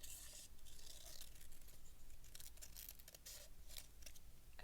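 Scissors cutting a paper circle, faint close snipping and rustling in quick irregular bursts with paper crinkling, no talk.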